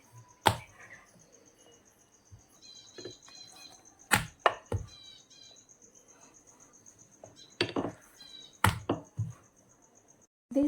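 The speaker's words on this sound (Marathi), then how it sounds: "साईडचे काट मी कट करून घेते" A knife trims the edges of rolled shankarpali dough, making sharp, close taps and chopping clicks that come in short bursts with quiet gaps between them. A faint, steady high whine runs underneath.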